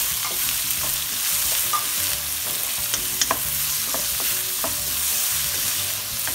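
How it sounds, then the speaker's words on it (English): Chopped onion sautés in hot oil for dal palak, a loud, continuous close-up sizzle and crackle with regular scrapes and taps of a stirring spoon. "we will saute our onion until it's golden brown also."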